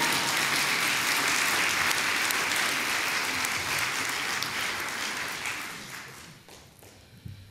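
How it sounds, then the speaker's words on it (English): Audience applause at a morning talk on healing from Crohn's and colitis, steady dense clapping from a crowd that holds strong for about six seconds, then fades out with a few last claps. "You can clap if you'd like."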